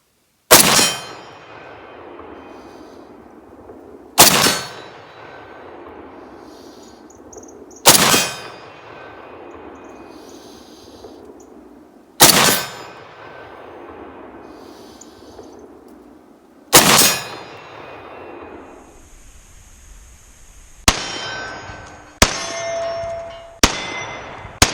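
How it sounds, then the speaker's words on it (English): Shots from a Springfield Armory M1A Socom 16 rifle ring off steel targets at 20 to 50 yards. Loud cracks each bring a sharp metallic clang, first spaced about every four seconds, then a quicker string of hits at the end. "we'll use just the laser and see how fast we can transition between the steel targets at ranges going from 20 to 50 yards"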